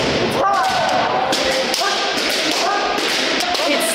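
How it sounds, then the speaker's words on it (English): Kendo practitioners stamping hard on a wooden dojo floor: repeated loud thuds and slaps amid shouting voices in a busy, echoing hall. "you can hear how forceful their foot movements are because they're stamping really quite hard"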